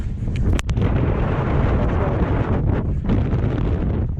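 Strong gusting wind roars loudly across the microphone throughout, a dense continuous rumble with a few sharper bursts, on an exposed coastal mountain-bike trail at Pacifica in heavy rain.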